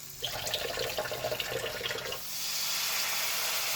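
Water poured into a pot during home cooking, a splashing, gurgling pour that shifts into a steadier, smoother rushing stream partway through, close and fairly loud.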